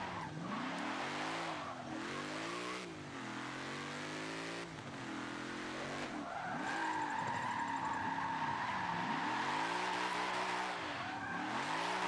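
In the Forza Motorsport 7 racing game, a car drifts with its engine revving up and down in repeated surges while the tires squeal through the slides, all steady and without speech.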